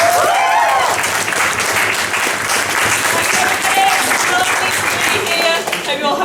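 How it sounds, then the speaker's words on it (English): An audience at a student comedy gig applauds loudly and steadily, a dense wash of clapping from start to finish, with a voice talking briefly near the beginning. "Give it a round of applause"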